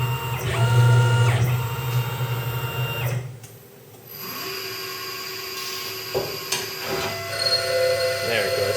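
A CNC vertical lathe cutting in a knifemaking shop gives loud, steady whining machine tones. The sound drops away briefly partway through, then resumes with shifting pitches and scraping bursts.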